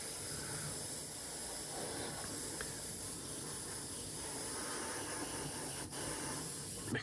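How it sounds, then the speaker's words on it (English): Airbrush misting paint onto a Trade Federation AAT model kit during weathering, a steady close hiss of spraying air that runs unbroken throughout, with no talking. "we'll go back in with the airbrush here, and we'll just start misting around about here"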